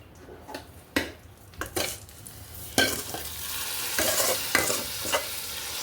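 Vermicelli (semai) is stirred in a pan for shir khurma, with irregular scraping and clinking of a spoon against the metal over a soft sizzle, close by and with no voices.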